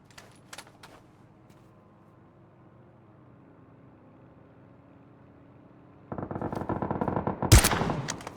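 Gunfire in the PUBG battle-royale shooter on PC: a quiet stretch of faint ambience and a few clicks, then a dense burst of rapid shots near the end, with one sharp loud crack standing out.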